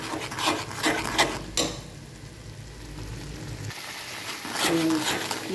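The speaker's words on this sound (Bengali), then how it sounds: "দিয়ে এবার নাড়িয়ে দেবো।" Fish curry sizzles in a pan with chili and cumin powder as it is stirred, a steady frying hiss with scraping spatula strokes, while a person talks over it at the start.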